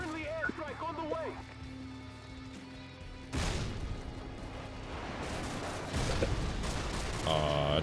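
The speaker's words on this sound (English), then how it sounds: "Friendly airstrike on the way." Friendly airstrike blasts in a first-person shooter game land as a burst of broadband booms starting about a third of the way in, rolling and rumbling continuously to the end, with voices and game chatter heard earlier.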